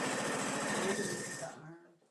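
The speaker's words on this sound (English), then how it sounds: "I've got my sewing machine set to" A sewing machine running a straight stitch whirs along steadily with a fast, close mechanical rattle, then slows and stops near the end.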